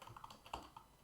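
Quiet keystrokes on a computer keyboard while PHP code is typed, a brief close patter of soft clicks with one firmer tap in the middle.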